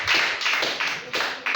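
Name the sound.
congregation applauding and cheering in church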